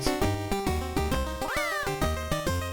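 A cartoon cat meows in the Game Boy game Looney Tunes: Twouble!, a rising and falling chiptune yowl heard once over looping, bouncy 8-bit music that fills the whole stretch.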